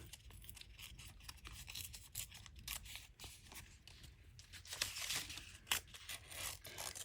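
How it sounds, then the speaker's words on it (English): Coffee-dyed paper, brittle and dry, is torn by hand in a series of short, quiet rips and crinkles, close up with no talking. "it's quite easy to tear because it's a little bit more brittle than normal paper"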